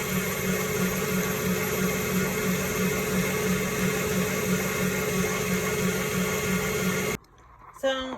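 A food processor churning cream into butter at the sloshy stage, steady loud motor whir with a pulsing wet churn, running continuously before abruptly stopping near the end, followed by a brief clatter.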